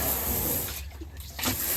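Water sprays and rinses the inside of a Karcher B150R floor scrubber, a steady close hiss with a brief dip and surge partway through.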